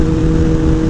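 A car engine roars at full throttle, loud, close and unbroken for a short burst, with no gaps or pops.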